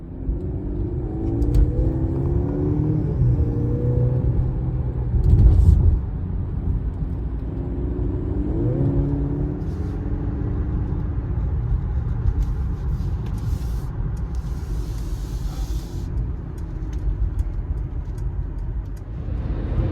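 A Mercedes-Benz GLC 300 drives on the road, heard from inside as a steady low cabin rumble with engine pitch rising as it accelerates, and a few light clunks and rattles along the way.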